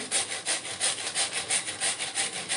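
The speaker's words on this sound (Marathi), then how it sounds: "काकडी आपल्याला अशा प्रकारे किसून घ्यायची आहे" Cucumber rubbed steadily across a hand grater into a wide metal pan, a rhythmic rasping scrape repeating about three times a second, close and alone with no talk.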